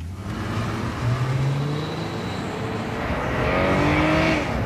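A 2006 Acura RL with a five-speed automatic transmission accelerates hard from a standstill. The engine revs climb loudly and close up, with audible gear shifts partway through and no speech over it.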